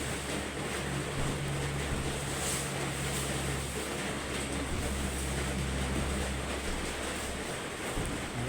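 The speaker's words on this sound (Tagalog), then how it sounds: "At bumuhos ang malakas na ulan." A dense, steady roar of heavy evening rain pouring down in Dasmariñas, Cavite, Philippines, with a low rumbling hum underneath, continuous and unbroken for the whole stretch.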